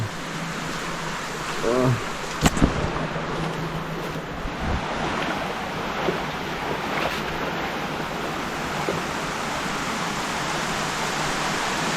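A river swollen after heavy rain in the forest gives a steady, loud rushing roar of fast water. A brief voice and a couple of knocks come early on, then the water noise continues alone.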